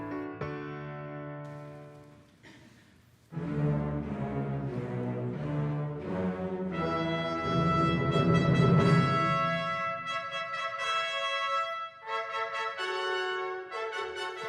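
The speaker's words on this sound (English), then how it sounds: "This is the sound of the Spokane Youth Symphony." A youth symphony orchestra from Spokane playing a full ensemble passage, strings and winds swelling after a quiet opening into sustained rich chords that stay loud and continuous to the end.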